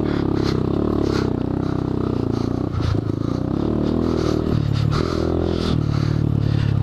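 A Honda Grom minibike rides a dirt motocross track, its small engine buzzing and revving close by amid repeated scraping, clattering thumps as the suspension bottoms out on the rough ground.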